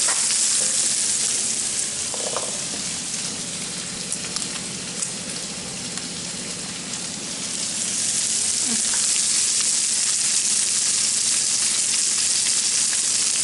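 Crushed garlic and Patí fish fry in a pan, sending up a dense, continuous sizzle with faint stirring clicks that swells slightly louder toward the end.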